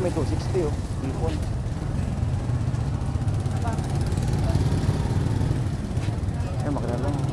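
A boat or vehicle engine runs at a busy Malabon and Navotas fish port, a steady low rumble that stays constant under close conversation and market chatter throughout.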